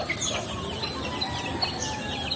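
Free-ranging native hens on a small farm cluck and chirp steadily, with bird calls scattered across a busy outdoor background, fairly close and continuous without talk.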